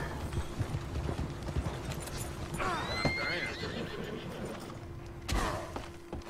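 Arthur's horse in Red Dead Redemption 2 whinnies loudly and close, over a steady clip-clop of hooves and busy in-game ambience, with a second snort-like burst near the end.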